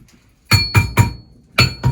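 Sharp metallic hammer blows strike a silver spoon ring on a steel mandrel, three in quick succession, then a pause, then two more. Each blow rings briefly and sits loud and close.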